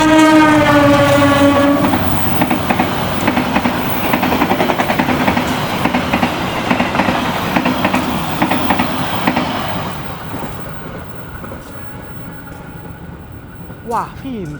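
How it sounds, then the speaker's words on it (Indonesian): The Banyu Biru Express passes straight through a station on a curving line at night, its horn sounding at the start before a loud rumble and clatter of wagons that slowly fades, with voices faintly heard. "persiapan melintas langsung kereta api Banyu Biru Express"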